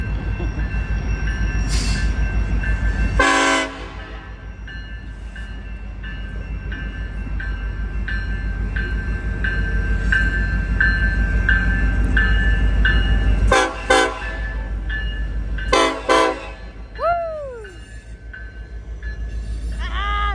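A Union Pacific freight train rolls out of the Hull Ave yard, a loud continuous rumble of rail cars close by, broken by several sharp horn blasts and a squealing wheel near the end.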